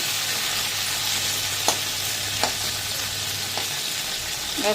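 Taro pieces (mukhi kochu) sizzle steadily in a hot pan, a constant close frying hiss broken by a few light stirring scrapes, with no voices.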